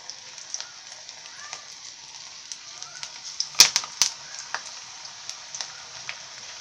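Vada dough frying in hot oil in a kadai over a low flame gives a steady, soft sizzle dotted with sharp crackles and a cluster of louder pops midway, heard close up.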